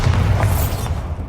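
A Bombarda spell detonates in Hogwarts Legacy: a dense, booming explosion with a heavy low rumble that swells at the start, then trails off into a fading, airy decay within about a second.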